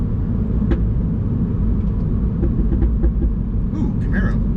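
A Mini with a loud JCW Pro tuning exhaust and a dual-clutch gearbox gives off a heavy, low, rumbling drone. Scattered crackles and pops sound over it, and a voice is heard faintly near the end.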